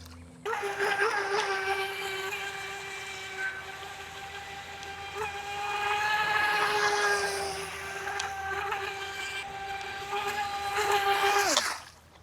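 DeeRC 2104 RC boat runs on a pond, its small electric motor giving a steady, high buzzing whine that rises and falls with speed before cutting off abruptly near the end.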